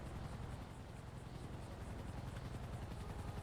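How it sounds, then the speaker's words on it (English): Helicopter flying overhead in GTA V on the NoPixel roleplay server, a steady low rotor thrum and engine drone holding constant for a few seconds with no talk over it. "I hear a helicopter."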